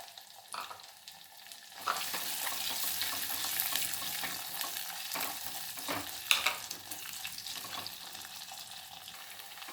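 Cut orange peel sizzles in hot oil alongside green chillies, dried red chillies and ginger, a steady close frying hiss with stirring scrapes and a few sharper clinks from the spoon.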